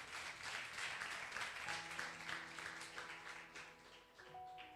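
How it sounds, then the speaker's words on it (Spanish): A church congregation gives a loud round of applause during a Spanish-language service. The clapping is steady and dense, and sustained instrumental tones enter partway through and continue under the clapping. "Dale un fuerte aplauso al Señor."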